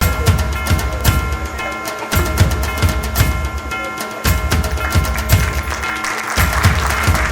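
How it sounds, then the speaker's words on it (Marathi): Audience applause fills a Labor Day award ceremony honoring company workers, a dense, steady clapping from a crowd that runs loud and unbroken throughout. "म्हणून टाळ्या वाजवा"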